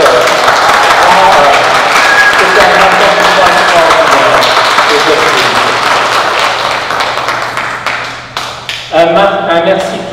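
Audience applause after a school theatre evening staging Antigone, loud sustained clapping throughout that gradually thins toward the end, with someone speaking over it near the close.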